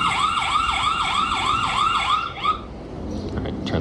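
A PLACUY 2K wireless video doorbell sounds its siren alarm: loud, rapid repeating whoops for about two and a half seconds, then it cuts off, leaving quiet room noise.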